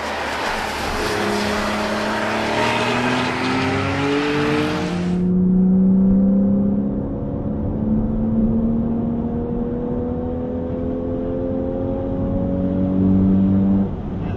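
Porsche 911 engine accelerating hard under way, a loud sustained roar with rising harmonic tones climbing steadily through the gears, heard close from inside with broad road and wind noise that drops away partway through.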